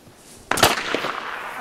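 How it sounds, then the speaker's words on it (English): Gunfire in a military shooter video game rings out as a sudden sharp crack followed by a short burst of crackling shots, then a lingering noisy tail. "Where are they shooting from?"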